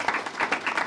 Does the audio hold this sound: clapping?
yes